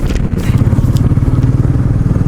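A motorcycle cruises along a road in a group ride, its engine producing a loud, close, steady throbbing rumble with a fast pulsing beat and wind noise across the whole clip.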